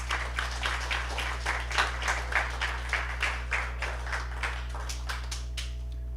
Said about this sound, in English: Please join me in welcoming Mr. Pekka with a big round of applause.